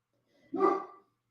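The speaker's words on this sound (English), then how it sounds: "Would you please refrain from just barking randomly out of the blue?" A small dog gives a single short bark indoors, close and clear against near silence.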